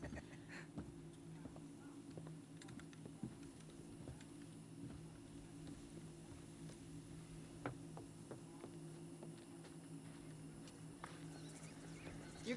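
Horse hooves clip-clop from Red Dead Redemption, a horse-breaking ranch scene, with soft hoofbeats scattered under a steady low ambient hum at moderate level.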